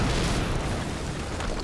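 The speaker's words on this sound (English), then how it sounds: "HQ, we just heard an explosion near the harvesting perimeter." Explosion in the video game Quantum Break, a loud broadband burst with a rumbling low tail that fills the short moment without any speech.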